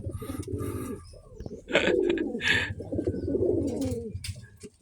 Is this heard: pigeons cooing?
yes